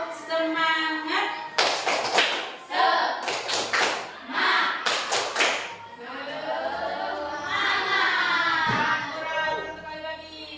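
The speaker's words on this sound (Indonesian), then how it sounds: "boleh tepuk semangat dulu. Tepuk semangat." A classroom of students performs the rhythmic tepuk semangat spirit clap, bursts of patterned group clapping mixed with chanting voices, followed by a teacher and class speaking.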